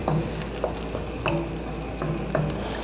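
A utensil stirs vegetable broth with white wine in a pot for poached fish, giving soft liquid swishes and light scrapes in an uneven rhythm, close and moderately loud.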